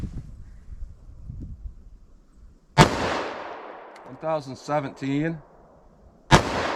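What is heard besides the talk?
45 ACP+P 185 grain hollow point gunshots, 3.3-inch barrel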